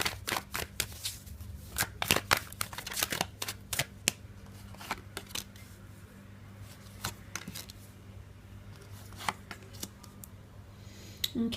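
Tarot cards are shuffled by hand in a run of crisp, close riffles and slaps, quiet but distinct, coming in irregular bursts over a low steady hum with no speech.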